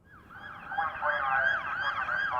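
Police car siren sound effect, a wailing up-and-down electronic siren that rises in loudness and cycles steadily for a couple of seconds, with no talk.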